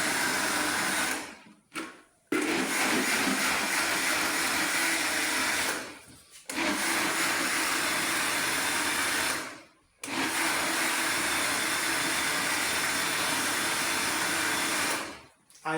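Blender grinding ingredients for a drink, a loud continuous whirring roar that runs in long stretches and stops briefly three or four times before starting again, with no talking.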